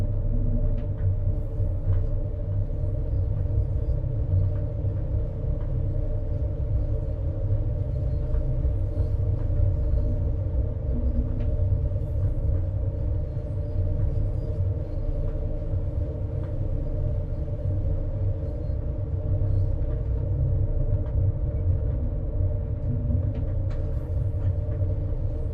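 A train rumbles through a tunnel on the Berninalinie route between Ospizio Bernina and Tirano in Train Sim World 4, a steady low drone with faint clicks and rattles, loud and unbroken throughout.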